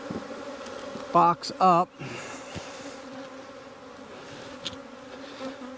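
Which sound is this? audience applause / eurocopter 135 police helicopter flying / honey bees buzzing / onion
honey bees buzzing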